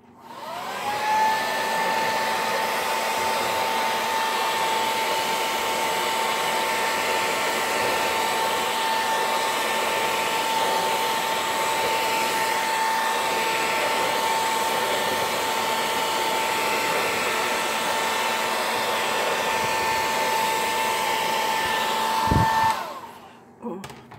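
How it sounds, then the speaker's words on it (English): A hair dryer blows on alcohol ink, running as one steady, loud whine for about twenty seconds before cutting off, with no talking. "And maybe I'll blow dry a little bit"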